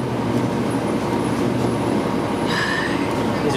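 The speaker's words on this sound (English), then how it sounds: "There's a GO train on the Milton line at Kipling Station." A GO Transit commuter train on the Milton line runs past Kipling Station, giving a loud, steady rumble of rolling wheels with a high squeal of metal joining partway through.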